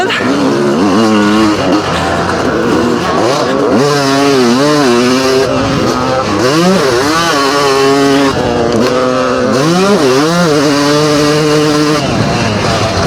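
Vintage Yamaha YZ 250 and Honda CR 500 motocross bikes race, their two-stroke engines loud and close, rising and falling in repeated revving sweeps as they accelerate and shift through the whole stretch.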